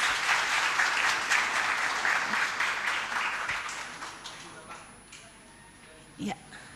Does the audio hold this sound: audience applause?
yes